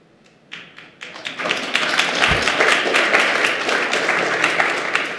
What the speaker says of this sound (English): And with this audience applauding,